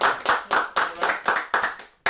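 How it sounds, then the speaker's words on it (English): Several people clap in a steady round of applause at the wrap-up of a live podcast show, eight sharp even claps about a quarter second apart, close and alone. "a round of applause"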